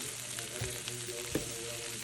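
Onions for fajitas cook on low heat in a pan, giving a soft, steady close sizzle with faint crackles throughout.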